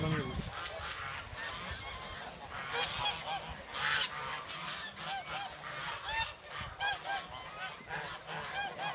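A flock of farm geese honks continuously, many overlapping calls blending into a dense, busy clamor at moderate distance, steady throughout with no pauses.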